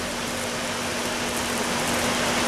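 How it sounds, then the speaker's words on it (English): Garden hose on its shower setting sprays water like rain outdoors in hot Mississippi weather, a steady dense hiss that holds constant and fairly loud through the whole stretch, with no voices. "And now it's raining. It's too much rain."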